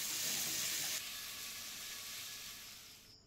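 Vegetables sautéing with spices in a pan for a fish curry give a steady, fairly quiet hissing sizzle that eases slightly over a few seconds, with no speech.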